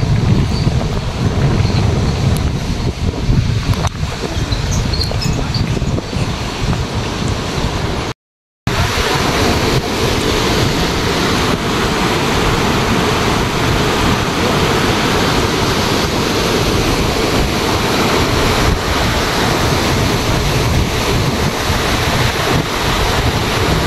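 The Jogmai river rushes beneath a bridge in a steady, loud broadband roar of flowing water, mixed with buffeting wind on the microphone and one brief dropout.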